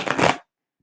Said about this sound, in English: Lydia, let me get a couple more clearing shuffles in.